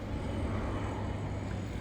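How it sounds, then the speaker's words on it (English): An airplane passes overhead beside a waterway in Boca, Florida, giving a steady, broad, rumbling roar that stays constant through the whole stretch, with no voices over it. "That sounds like a plane."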